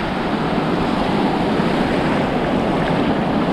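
Atlantic Ocean surf washes in at a beach as someone wades into the water, a loud continuous roar of breaking waves mixed with wind buffeting the microphone.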